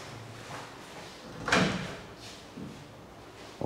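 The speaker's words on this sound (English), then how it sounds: "Open both doors and step back so you can see it." Closet doors in a new two-bedroom rental house being opened, a soft rolling slide followed by one louder sweeping scrape and a faint knock at the end.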